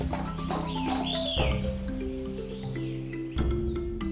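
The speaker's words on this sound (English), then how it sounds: "The sound of birds from either side becomes clear and enchanting." Birds sing along a forest trail in Tengchi National Forest Recreation Area, Taiwan, with several chirps and rising whistled calls over a steady low background hum.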